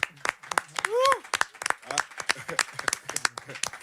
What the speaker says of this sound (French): c'est moi qui vous applaudis